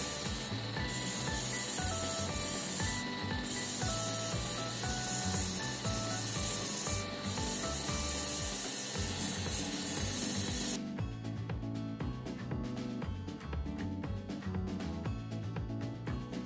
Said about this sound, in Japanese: 細く切ったベルトで角を取りながら形が崩れないように磨いていきます